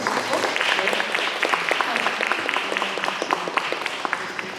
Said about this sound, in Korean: 박수 다시 한번 주시고